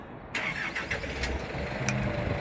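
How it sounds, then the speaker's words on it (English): A Linelift DHT120 machine's engine turns over and catches after a brief silent start, then settles into a steady mid-pitched running note with a few sharp clatters and no talking. "again start your engine"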